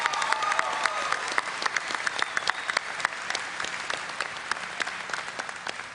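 Applause from a BlizzCon audience at a cinematics panel: steady clapping from many hands, dense and sustained throughout with sharp individual claps standing out.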